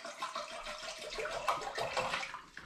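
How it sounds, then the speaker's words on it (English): Water pours into a saucepan at the start of home brewing a raspberry porter, a continuous splashing gush that wavers in loudness throughout, close by and without speech. "I'm now beginning by putting some water into this saucepan."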